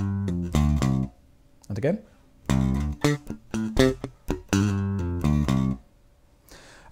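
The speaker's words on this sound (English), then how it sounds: "we're going to play a bluesy lick" A bass guitar plays a bluesy lick of plucked notes with slides and a pull-off, in short phrases separated by pauses, with a brief spoken cue between them.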